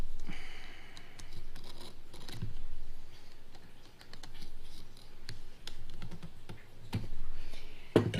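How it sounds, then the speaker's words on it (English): Dry scratchy scraping and crunching as a knife cuts through a hardened cuir bouilli leather phone case, in irregular strokes with occasional sharper clicks. "there's this weird scratching sound when you're cutting the leather"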